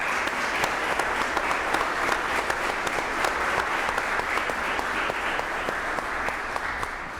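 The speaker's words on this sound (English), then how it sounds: "We need to give him a round of applause for everything that he's done." An audience at a university event applauds steadily for several seconds, a dense wash of clapping that fades slightly at the end.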